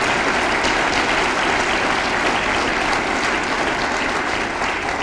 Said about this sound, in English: So if you please give her a warm round of applause